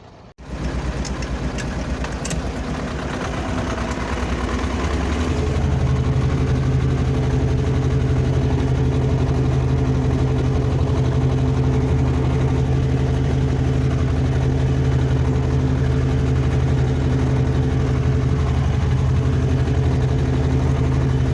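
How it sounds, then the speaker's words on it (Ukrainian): A tractor engine drones loudly and continuously in second low gear, its pitch dropping and settling into a heavy, labouring rumble as it plows sandy, stony, clay-heavy soil about 15 centimetres deep. "Друга понижена, ледве це трактор тягне."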